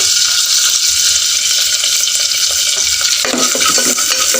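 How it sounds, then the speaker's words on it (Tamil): Coconut pieces sizzle steadily as they fry in ghee for a Kerala-style kalandhappam, a loud continuous hiss that roughens and shifts partway through as the pan is stirred. "இது நெய்லேயே வந்து ஃப்ரை ஆகணும்"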